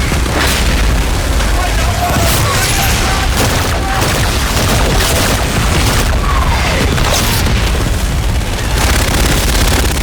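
Artillery strike in the Call of Duty Infinite Warfare video game, heavy booming explosions rolling one after another over dense battle noise, with voices talking over the barrage.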